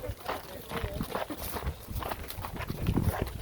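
Several horses on a trail ride at historic Latta Plantation in Huntersville, North Carolina clop along at a steady, irregular walk, close by. A woman chats over the hoofbeats.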